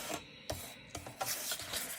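Small Tim Holtz Tonic paper trimmer slicing through paper, a few close, soft rasping strokes with short rubbing bursts and pauses between them, no voices.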